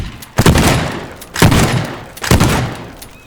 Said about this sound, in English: What happens if I shoot?